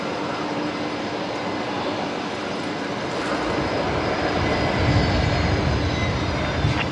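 A Jetstar Airbus A321 lines up on the runway at Brisbane Airport, its jet engines a steady, moderately distant roar and whine that swells slightly partway through.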